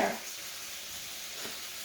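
Bacon frying in a pan gives a faint, steady sizzle that crackles evenly throughout, heard quietly and alone with no talking.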